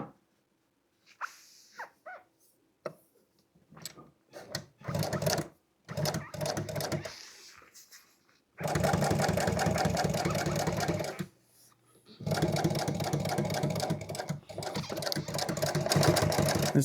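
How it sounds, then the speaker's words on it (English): A sewing machine stitching upholstery seat insert pieces runs in stop-start bursts, short runs giving way to longer steady stretches of rapid needle clatter, close and fairly quiet. "Okay, now we can start sewing these together."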